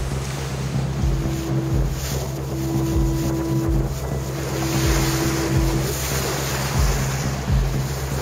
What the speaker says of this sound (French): le vent augmentait de plus en plus